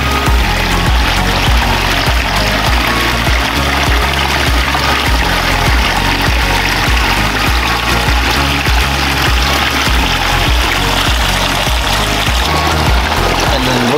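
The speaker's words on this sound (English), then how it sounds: "So we come this way, really nice looking waterfall." Backyard waterfall spilling over craggy moss rock, a steady loud rush of falling water that continues evenly throughout with no pauses.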